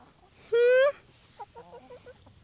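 Poultry on a smallholding, with baby turkeys among the birds, gives one loud drawn-out honking call near the start, followed by quieter clucks and chirps close by.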